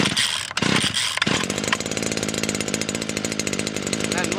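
A Stihl FS 94 R string trimmer is started with a pull cord and the throttle untouched. A couple of loud pull-cord rasps come first, then the small two-stroke engine catches and runs at a steady idle, buzzing loudly nearby.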